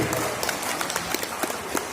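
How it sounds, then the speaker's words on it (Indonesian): An audience of parents claps at a kindergarten (PAUD) graduation ceremony, giving a short burst of scattered, fairly close handclaps heard alone. "Tepuk tangan Bapak dan Ibu dulu."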